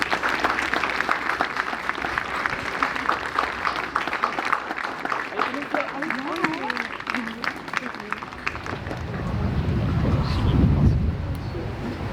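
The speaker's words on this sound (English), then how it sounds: "Let's have a round of applause for Hester and James, please." Applause from a school presentation day audience fills the hall, steady dense clapping that swells slightly near the end.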